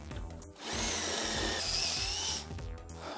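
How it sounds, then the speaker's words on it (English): Power tool drilling out a rivet on a BMW G12, a loud, steady whirring grind held for a couple of seconds up close, with a brief dip before and a slowing whine after. "I need to cut this rivet from here."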